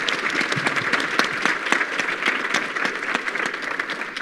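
Applause from an audience at a Niman Ranch gathering, a full steady wash of many people clapping throughout, with a few sharper individual claps standing out near the front.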